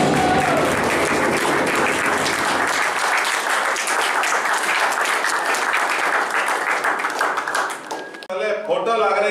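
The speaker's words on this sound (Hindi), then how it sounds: "एक बार फिर जोरदार तालियां विनाश करिए" Loud, sustained audience applause at a cultural evening birthday celebration, dense clapping running for several seconds before thinning out, with a voice and music cutting in near the end.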